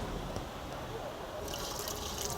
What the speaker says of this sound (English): we're going to take this mixture of alcohol and oil, and we're going to go ahead and pour it right directly into our Fry Daddy